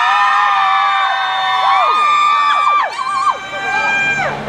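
A concert crowd at a Global House event in Thailand cheers loudly and steadily, with high shrieks and whoops rising and falling over dense continuous noise.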